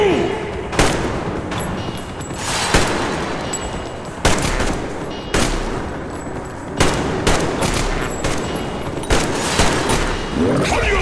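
Dense gunfire and grenade blasts from the Metro Exodus video game, with rapid bursts, sharp booming explosions roughly every second or two, and shouted voices mixed into the loud, continuous combat.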